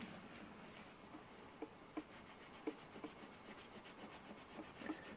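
Stropping compound is rubbed onto a leather strop like a crayon, making a faint, steady scratchy rubbing with soft regular strokes and small ticks, quiet and close.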